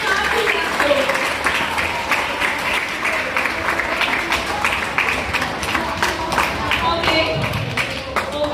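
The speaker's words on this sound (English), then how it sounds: "give a great hand to all of you. Applaud to this group." An audience claps for a group during an interactive morning learning session, a dense, loud run of hand claps lasting the whole stretch with a little crowd murmur mixed in.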